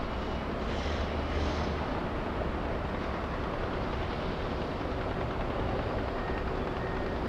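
A Qantas Airbus A380, flight QF93 from Melbourne, on final approach over downtown Los Angeles into LAX, giving a steady, broad jet roar that holds evenly throughout at moderate distance.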